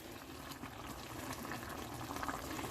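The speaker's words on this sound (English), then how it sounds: "the greens are cooking up nicely right now" Collard greens boil in a pot on a home stove, giving a steady, close bubbling and simmering hiss that runs continuously without any talking.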